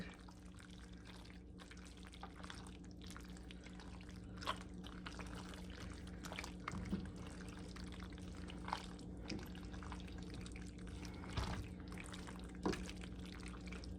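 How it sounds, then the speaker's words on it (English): Cooked pasta being stirred into sauce in a pan, a faint, continuous wet shuffling broken by occasional soft clinks and squelches, quiet and close, with no voices. "I added our cooked pasta into our sauce, and I am just going to just keep stirring and stirring and stirring until it is all coated"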